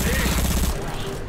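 Rapid gunfire from shooting zombies in the video game Left 4 Dead 2 comes as a dense, loud volley of shots that trails off after a moment, with voices mixed in.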